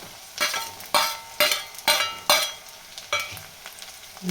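Green chilies go into a pan of frying tandulja greens, giving a steady sizzle broken by about seven sharp, rhythmic bursts of stirring and scraping, close and clear with no talking.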